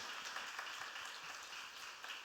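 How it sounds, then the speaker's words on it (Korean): Faint, steady applause from a congregation during a Sunday church service, welcoming new members, a soft continuous patter of many hands lasting throughout with no voices over it. "큰 박수로 환영해 주시고"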